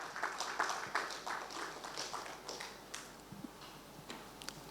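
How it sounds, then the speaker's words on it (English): Audience applause for the keynote speaker at a maritime week conference in a Lagos hotel hall, a moderate, steady patter of clapping that stays fairly distant and slowly thins out, with no talk over it. "A round of applause to him as he comes up to the rostrum."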